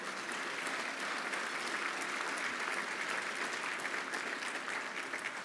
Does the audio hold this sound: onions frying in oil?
no